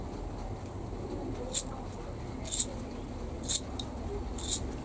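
Four quiet, evenly spaced snips of scissors, each a short crisp click over a faint background hush.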